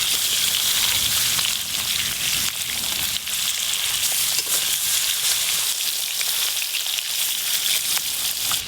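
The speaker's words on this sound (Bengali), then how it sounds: "এবার মাছগুলো ভালো করে ভেজে নেব।" Tangra fish sizzle loudly in hot oil in a pan, a dense, continuous crackling hiss that holds steady throughout with no voices.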